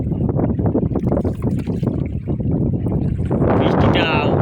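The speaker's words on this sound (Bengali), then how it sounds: "সে কিন্তু নৌকা চালিয়ে যাচ্ছে" A small boat rowed by a boatman moves through water under windy conditions, with splashing and steady wind buffeting the microphone, and a voice speaking over it.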